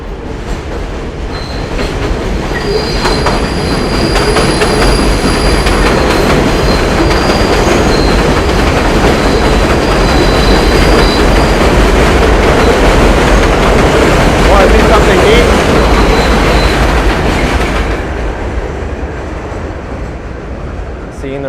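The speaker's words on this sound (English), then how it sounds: "Seeing the reflection of the subway on the window." New York City subway train in the Bronx rumbling past at close range, a loud sustained roar with wheel clatter and high metallic squeals that swells and then fades near the end.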